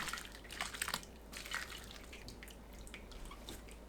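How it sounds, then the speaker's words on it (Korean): Drained canned mackerel is rinsed under hot running water, a quiet spattering trickle with bursts of splashing drips near the start that settle into a softer steady flow. "뜨거운 물로 헹궈내세요."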